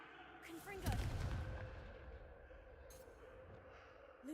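A Confringo fire spell blasts in a Hogwarts video game, a sudden booming burst that fades into a lingering rumble, with faint game sounds and a short voice-like tone at the end.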